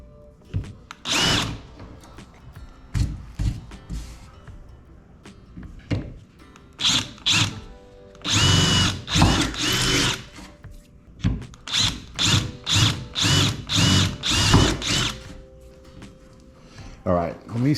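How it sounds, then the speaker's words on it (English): A power drill bores pilot holes into a jon boat to fit a plastic bimini top mount, with repeated loud whirring bursts of varying length separated by pauses, close up, and someone talking in between. "So what I'm gonna do is just start 2 holes here."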